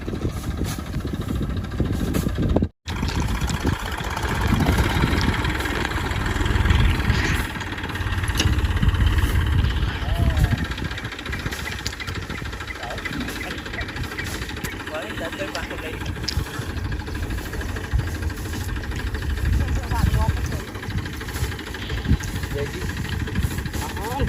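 A tractor's diesel engine idles steadily with a low, knocking rumble throughout, briefly cutting out early on, while people talk over it.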